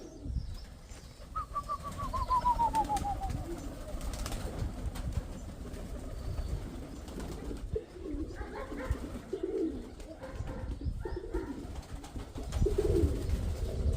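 Pigeons flapping overhead in flight with soft cooing, a steady outdoor wash underneath and a few brief bird calls; someone speaks intermittently in the background.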